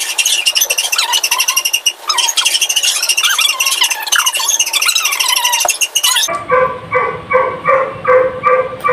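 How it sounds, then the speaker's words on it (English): A neighbor's dog barks in repeated yips and squawk-like calls through the first six seconds, followed by a steady, rhythmic pulsing tone that continues to the end, with no talk. "If you can hear someone is barking, it's probably our neighbor's dog."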